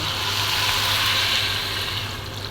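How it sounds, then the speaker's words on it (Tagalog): Steady rushing stream of about a litre of water pouring into a pot for arroz caldo, continuous and fairly loud, with a faint low hum beneath and no voices. "Tapos, ilalagay na natin ang tubig."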